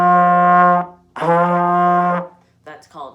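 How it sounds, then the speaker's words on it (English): Two tongued trombone notes ring out, each starting cleanly and holding steady for about a second, close and fairly loud, followed by a brief softer sound. "if I'm playing two into the trombone, it sounds like this"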